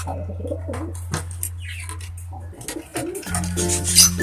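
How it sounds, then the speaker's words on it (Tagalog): A pigeon in a breeding loft gives low, repeated cooing phrases close by, with a short pause midway before the cooing resumes louder, alongside faint chirps and background rustle. "Ito naman po yung fourth gift bird natin na si Lewis Pepperman."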